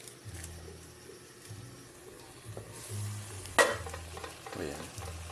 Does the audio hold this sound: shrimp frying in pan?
yes